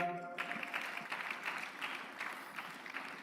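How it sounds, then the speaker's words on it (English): Graduation audience at an executive programmes ceremony in Lagos clapping continuously, soft and somewhat distant, a steady patter of many hands that persists throughout. "Please keep the clap coming, keep the clap coming"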